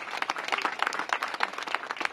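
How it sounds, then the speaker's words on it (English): An audience at a Washington, DC mayoral event applauds warmly, a steady wash of many hands clapping at close range, with no voices heard. "I think that deserves another round of applause."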